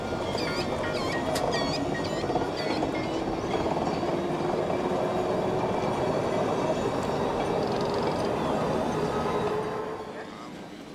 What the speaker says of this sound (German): Noch im Einsatz sind die Zahnradtriebwagen der Bauart BDHE24. Ausfahrt in Kleine Scheidegg.